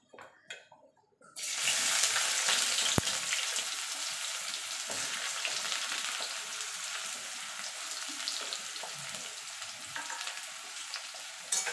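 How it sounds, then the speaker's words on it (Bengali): Onions hit hot mustard oil and a broad sizzle erupts after a brief quiet opening, then holds steady and fairly soft with a single sharp click near the start. No voices. "এবার পেঁয়াজটা আমি ভেজে নেবো"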